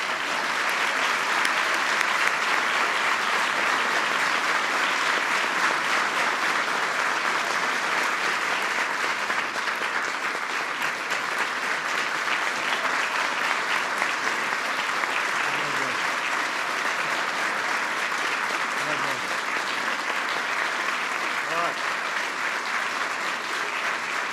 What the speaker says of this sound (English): Please give them one last big round of applause